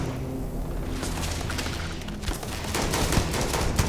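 Rapid gunfire from a weapon in a video game crackles in a dense, continuous stream of shots, with sharper bursts and booms growing louder toward the end and no talk over it.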